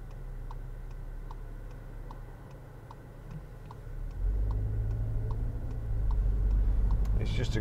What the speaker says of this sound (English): Now just listen to the exhaust